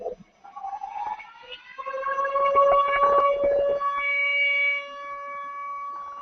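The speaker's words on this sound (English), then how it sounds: "This is the anti-air siren, we call it color red, that we hear" Israeli anti-air civil defense siren, the 'color red' alert, wails loud and steady with a rising then sustained pitched tone, heard alone without voices.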